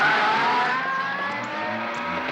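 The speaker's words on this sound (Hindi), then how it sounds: "अरे भांजे, तू रिवर्स में गाड़ी क्यों चला रहा है?" A car speeds in reverse in an action-film scene, its engine roaring loudly and steadily, with a hint of tire noise and no talking.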